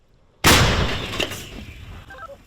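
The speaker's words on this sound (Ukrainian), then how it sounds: "Гармата ще радянських часів гаубиця, де 30 робить постріл, а слідом ще один" A single sudden, heavy blast from a Soviet-era howitzer breaks the silence, then rolls off into a long echoing rumble that fades over about two seconds.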